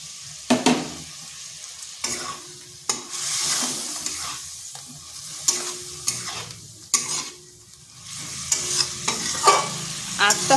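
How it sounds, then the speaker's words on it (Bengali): Flat beans are tossed into cooked spice masala and fried, with loud, repeated scraping strokes of a spatula over a bubbling sizzle that swells and fades between stirs. "মশলাটা কষানো হয়ে গেছে। এরপর দিয়ে দিচ্ছি শিমগুলো।"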